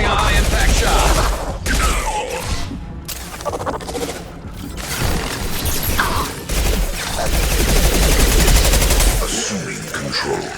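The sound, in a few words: gunshot fired in the video game Mass Effect 2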